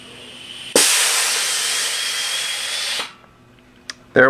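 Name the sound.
carbonation chamber blowing off pressure, apple juice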